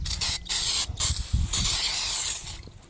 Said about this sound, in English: Just gonna use some brake cleaner, give it a nice little wipe.